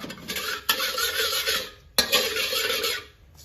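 Chicken and cashew nut stir-fry ingredients being stirred in a pan over medium heat, with scraping utensil strokes against the metal, two sustained bursts separated by a brief pause, close and fairly loud.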